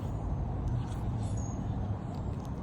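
An MV Agusta 1090RR Brutale motorcycle, cold after a week unused: its engine gives a steady, close, low rumble with no voices.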